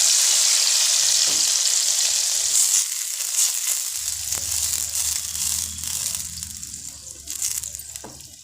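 Tadka for lasooni palak paneer, with chillies going into hot oil, sizzles loudly and steadily in a steady hiss. A deeper bubbling rumble joins partway through as the pan keeps frying, with no talking.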